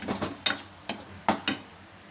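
Utensil clacks and scrapes against a pan while wheat rava pudding with sugar is stirred, a handful of irregular close knocks over a soft bubbling background.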